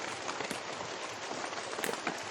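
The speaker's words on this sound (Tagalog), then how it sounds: "Abutan kami ng ulan." Rain falling on the roof of a farm hut made from banana leaves in the Philippines, a dense, steady patter close by with scattered louder drops and no voices.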